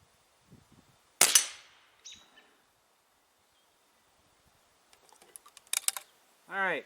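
Custom Crosman 2240 CO2 air pistol firing a single sharp, close crack, followed by a smaller click and later some light handling clatter.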